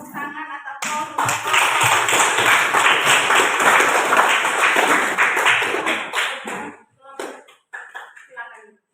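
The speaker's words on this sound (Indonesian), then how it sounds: "marilah kita berikan tepuk tangan atau aplaus" After a quick spoken line, an audience in a teaching-practice classroom session bursts into loud, dense clapping that holds steady for about six seconds and then thins out. Scattered claps and voices linger at the end.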